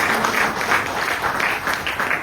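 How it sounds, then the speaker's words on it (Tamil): An audience at a Tamil business plan presentation claps in a steady, fairly close burst of applause that holds its level for the whole moment without cheering. "ஒரு பெரிய பாராட்டு கொடுங்க சாருக்கு."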